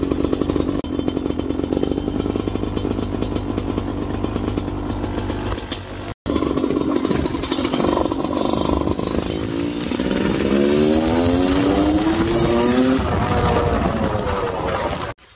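Freshly washed motorcycle ridden up to a concrete area, its engine buzzing loud and close with a brief cutout midway, then revving up and down in rising and falling pitch sweeps.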